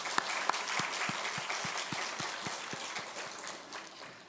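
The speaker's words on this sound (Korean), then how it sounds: "하나님께 영광의 박수 한번 드립니다." A church congregation claps during a Sunday service, a steady run of loud, sharp claps that trails off near the end.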